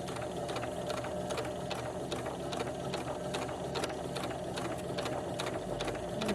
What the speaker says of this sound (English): Once the presser foot is down on the fabric, we can just hit the pedal and start sewing